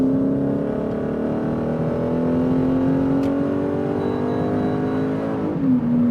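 A Lexus IS-F launches hard, its engine note rising steadily in pitch through a long pull and then dropping briefly at a gear change, loud and close inside the car.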